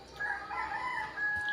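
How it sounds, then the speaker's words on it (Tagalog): A chicken rooster crowing close by in a short burst at a Philippine home, a single drawn-out call standing alone without talk. "Ngayon po ay manok ang pumasok."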